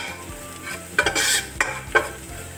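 Onions fry with spices in a pot for Egyptian koshary, a soft steady sizzle broken by a few brisk scraping stirs of a spoon, close and moderately quiet.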